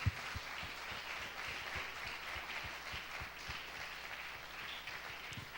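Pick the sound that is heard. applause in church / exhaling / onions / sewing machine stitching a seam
applause in church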